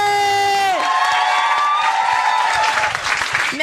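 A live audience at a Marseille stage show bursts into loud, sustained cheering and applause, a dense wall of clapping and whoops that swells right after a tonal music sting fades.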